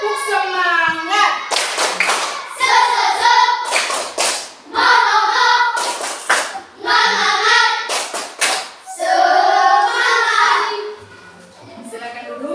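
A group of students stand and perform a rhythmic Indonesian spirit clap in a classroom, with loud patterned bursts of clapping alternating with chanted voices.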